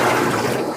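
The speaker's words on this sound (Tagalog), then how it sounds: "Tapos ito, tubig, binaliktad niya," Clean water gushes loudly from an overturned container for a brief, continuous splash.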